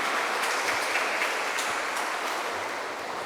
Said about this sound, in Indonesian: Kita beri tepuk tangan untuk para petugas ini